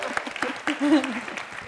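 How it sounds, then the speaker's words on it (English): Scattered, sparse claps from a lecture audience at a talk on Islam, a few sharp hand claps spread unevenly across the moment while a voice speaks over them. "We can clap to that, right?"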